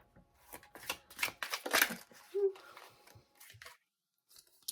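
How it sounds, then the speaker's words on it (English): A deck of oracle cards is shuffled by hand in a series of quick, close papery riffles and slaps, with brief pauses between the bursts. "I'm going to pull some more Oracle cards"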